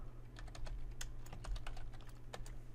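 Quick bursts of keystrokes on a computer keyboard as a folder name is entered: crisp, close clicks in an irregular rhythm over a low steady hum, with no voices.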